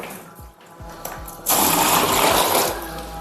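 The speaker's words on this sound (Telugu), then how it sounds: "దానికని చెప్పి వాటర్ అయితే తీస్తా ఉన్నా" Water being drained out of a fish tank during aquarium cleaning, a steady broadband rush and gurgle that swells loudly midway and continues without talk.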